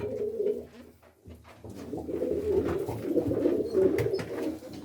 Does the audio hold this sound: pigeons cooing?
yes